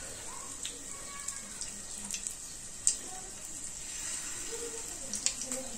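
Floured tilapia fish pieces frying in hot oil on a low flame, a steady quiet sizzle with scattered pops and small clinks, close by.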